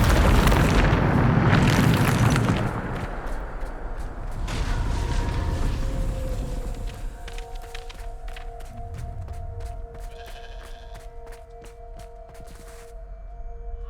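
A Bombarda explosion spell in Hogwarts Legacy erupts in a big rumbling blast lasting a couple of seconds, followed by a second swell of rumble, then fades into eerie humming tones and sparse clicking debris.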